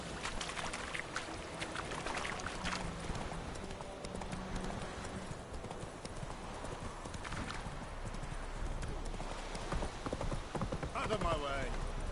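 Horse hooves clip-clop at a steady riding pace in the video game The Witcher 3, continuous across the ride and mixed with game sound, with speech heard now and then.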